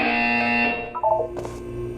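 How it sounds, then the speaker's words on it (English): A buzzer sounds in the video game Portal 2, a harsh, steady electronic drone that breaks off partway through and gives way to a short burst of noise. "When you hear the buzzer, look down at the floor."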